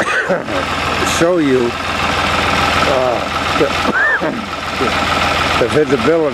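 A farm tractor engine runs steadily while mowing a corn food plot, a loud, constant mechanical drone under someone talking close by throughout.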